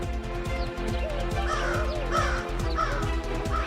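Crow caws from a cartoon scene with a crow flying off with a new mobile phone, repeated calls over a steady, loud musical backing with rhythmic low beats.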